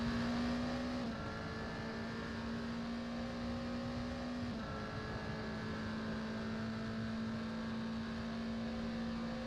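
Race car engines drone steadily in a racing video game at a 35-car Daytona four-hour event, a constant engine whine with gear-shift-like pitch drops over continuous background noise.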